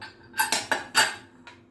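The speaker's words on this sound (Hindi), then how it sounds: "आपण आता कुकर उघडून बघूया।" A metal pressure cooker lid is opened after cooking carrots, giving several sharp metallic clanks and scrapes in quick succession, close and clear with no talk.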